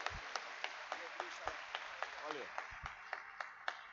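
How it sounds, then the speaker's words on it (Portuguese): Church congregation clapping for missionaries at a live worship service, a sparse run of distinct hand claps with a fairly steady beat, heard under someone speaking Portuguese. "Aplauda o Senhor pela vida desses nossos missionários."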